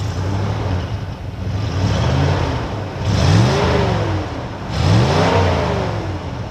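The stock engine of a 1992 Supra boat with tame mufflers revs up and settles back twice, a close, fairly quiet mid-pitched drone rising in two distinct surges.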